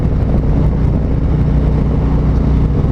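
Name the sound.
2019 Road Glide Special motorcycle riding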